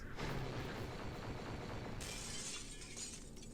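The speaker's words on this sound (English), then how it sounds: "Look at that glass effect." Glass shatters with a bright crash in the Super Danganronpa Another 2 fangame, a loud burst of breaking shards that jumps up sharply midway and rings on over a dense, steady game soundscape.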